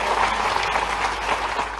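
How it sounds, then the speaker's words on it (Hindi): Loud, sustained applause from an audience at a cooperative youth dialogue event with the Madhya Pradesh chief minister in Bhopal, a dense even clatter of clapping throughout with no one speaking. "जोरदार ताली"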